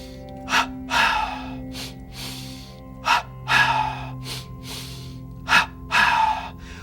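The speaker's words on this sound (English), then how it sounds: "you're using the nose for the inhale, the mouth and the expanded throat for the exhale" Yoga breathing repeats in three cycles, each a sharp nasal inhale followed by a longer, breathy exhale through an open mouth and expanded throat, close and clear over a low steady hum.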